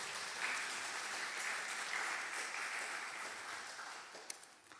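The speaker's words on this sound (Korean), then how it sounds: "박수 한번 쳐주시기 바랍니다." A church congregation applauds during a worship service, with steady, dense clapping from many hands. The applause is moderately distant and fairly soft, and it tapers off toward the end.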